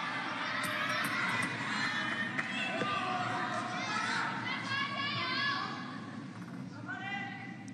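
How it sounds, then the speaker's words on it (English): Crowd noise from fans at a women's singles table tennis match at the WTT Champions event in Yokohama swells with chatter and excited calls, while a commentator talks over it. "You can hear the crowd and the tension starting to build."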